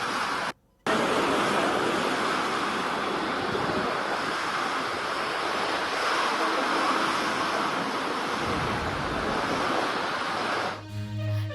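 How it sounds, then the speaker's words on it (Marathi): Heavy rain lashing down with strong gusty wind in Thane, a dense, steady roar of broadband noise that fills the scene continuously, with a brief dropout near the start and no voices. "सोसाट्याच्या वाऱ्यासह जोरदार पाऊस आता सुरू झालेला आहे"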